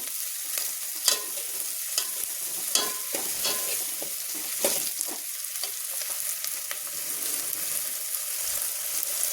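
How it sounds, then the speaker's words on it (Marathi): Onions sautéing in a pan for spicy chicken curry, a continuous bright crackling sizzle with repeated stirring scrapes and clinks of a spoon, close and fairly loud, with no voices. "चांगली अशी परतून घ्यायची"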